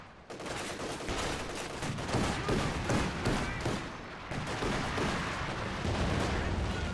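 Artillery barrage from a light infantry gun in the WWII strategy game Company of Heroes 2, a dense, continuous roar of overlapping booms, blasts and gunfire filling the whole stretch at loud, steady intensity.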